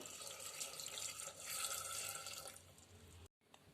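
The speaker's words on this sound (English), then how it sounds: "Let's pour some water." Water streams steadily into a pot for ridge gourd rasam with tur dal, a close splashing pour that stops abruptly near the end.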